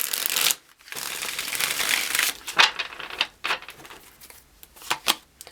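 Tarot cards are riffled and shuffled in several quick, crisp bursts close by, separated by short pauses.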